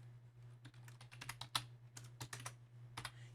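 Rapid plastic key presses on a TI-Nspire calculator keypad while an equation is entered, irregular clicks close to the microphone over a constant low electrical hum.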